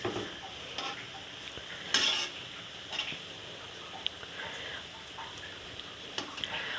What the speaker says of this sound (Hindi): और देखिए बस कितने अच्छे पकोड़े फ्राई हो रहे हैं।